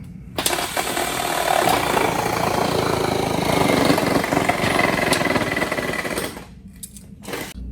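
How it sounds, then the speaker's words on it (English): A power tool cuts down wooden pallets in the background, a steady droning buzz that runs for several seconds and then cuts off, followed by a few short bursts. "That's my bro in the background, cutting down pallets."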